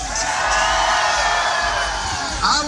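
A large crowd at the 2012 U.S. Diesel Truckin Nationals roars and whoops for T-shirts fired from a cannon, a dense, loud, sustained wall of cheering and yelling close by that holds steady for almost three seconds.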